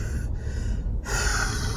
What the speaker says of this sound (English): I got a wheeze and a cough.